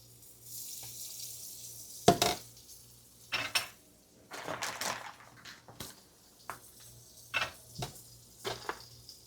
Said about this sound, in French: je vais rajouter le steak qui va cuire avec les légumes